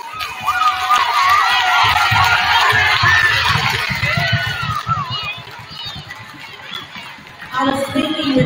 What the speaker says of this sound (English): The boys and girls can give them a nice round of applause.